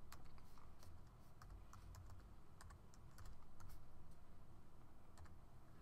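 Light keyboard typing as a name and email address are entered into a form, soft scattered clicks over a steady background hiss, faint and close.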